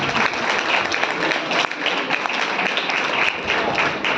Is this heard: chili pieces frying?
no